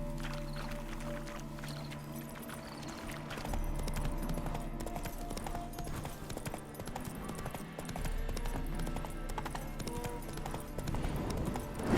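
Steady clip-clop of horse hooves at a trot in The Witcher 3: Wild Hunt, close and continuous over a dense background of music and ambient noise.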